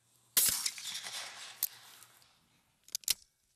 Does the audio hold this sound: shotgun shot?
yes